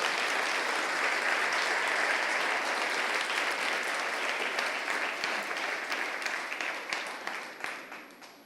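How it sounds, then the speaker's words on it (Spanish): A church congregation applauds, a loud, dense roar of clapping that runs steadily for several seconds, then thins and fades toward the end. "Denle un aplauso a Jesús por ello,"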